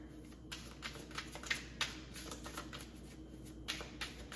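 Tarot cards shuffled and drawn by hand, a steady run of quiet riffling flicks and soft slaps with a few sharper snaps, close and alone over a faint low hum.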